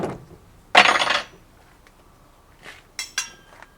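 A metal handrail tube slotted into a fast-fit bracket on a sheet pile capping beam system, giving one loud clattering metallic clunk followed by two sharper clinks a few seconds later.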